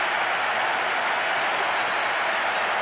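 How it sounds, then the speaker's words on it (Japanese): Video game football stadium crowd cheering loudly during a Winning Eleven 10 match between Manchester United and Lyon, a dense, continuous roar of applause and voices filling the whole stretch without pause. "大歓声が響き渡ります。"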